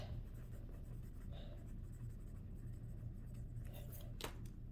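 A pencil scratches across a sticky note in quiet, steady strokes, close and soft, with faint room hiss behind.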